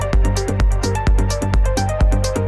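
The original bass line from the track pulses as a punchy plucked synth bass in a steady rhythmic pattern, with deep low thumps and bright transient clicks on each note, loud and alone.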